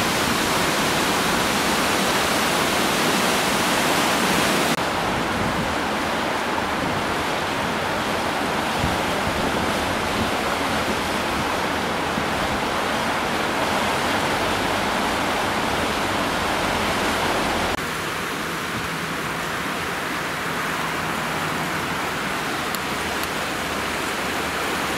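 Water pours steadily over a weir on the River Ogmore, a loud, continuous broadband rush that drops slightly in level near the end, with no voices.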